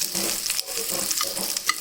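Steady frying sizzle of onion and tamarind with stirring scrapes in a pan, close and continuous, no voices.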